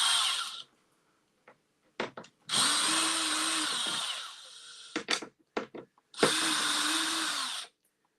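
Power drill driving screws into the underside of wooden furniture in a workshop: several short whirring bursts, two of them long sustained runs with a steady motor whine, separated by brief trigger taps and quiet pauses, close and loud.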